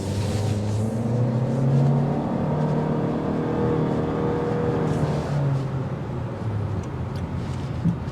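A 2023 Honda Civic accelerating on a test drive, its engine drone steady and close with slowly rising and falling tone throughout, no voices.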